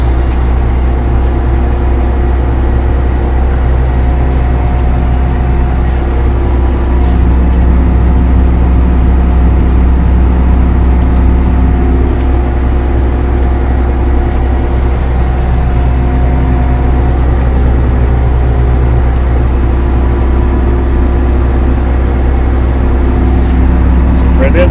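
A Valtra T214D tractor on auto guide pulling a roller across a dusty field, its engine holding a steady, loud, low droning hum with constant rumble throughout, unchanging from start to finish.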